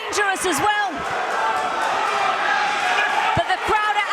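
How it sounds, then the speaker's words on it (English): A boxing crowd roars and cheers at a live fight, a dense wall of voices that holds steady throughout, with a commentator's excited voice running over it. "the crowd are absolutely going wild as we're approaching the last 20 seconds of this round"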